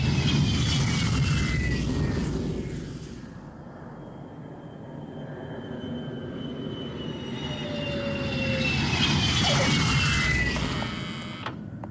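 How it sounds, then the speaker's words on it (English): Old BAC Lightning jet fighters roar overhead in an animated scene, a loud, sustained engine rumble and whine that swells, dips slightly, then builds again as the jets pass. "why they keep bringing in old planes like those frickin' BAC Lightnings"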